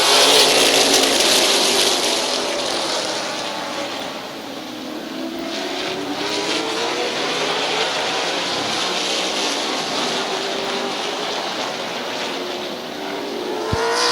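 Race cars at Midvale Speedway roaring out of turns three and four onto a green flag, a dense, steady engine wash that swells and holds loud throughout with a slight dip midway.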